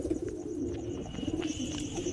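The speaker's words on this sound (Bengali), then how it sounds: "এটা পুরো হাই কোয়ালিটি আরসাদ লাইন থেকে বাছাই করা পায়রা" High-quality Arshad line pigeons with purple feet coo softly and steadily, a low continuous warbling murmur heard from close by with no other sounds over it.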